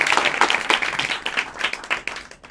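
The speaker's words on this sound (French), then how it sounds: "Merci Régis, on applaudit bien fort" Applause from the audience at a live comedy show, a lively burst of clapping that is loud at first and gradually thins and fades toward the end.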